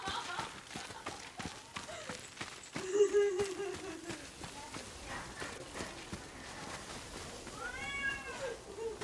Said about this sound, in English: Cats are fighting, and so she's trying to keep them separated.